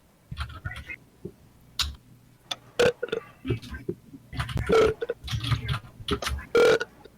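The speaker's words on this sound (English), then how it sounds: "I'm just gonna keep burping" Several loud, close burps, some drawn out, erupt repeatedly among casual talk and small clicks, spaced irregularly across the stretch.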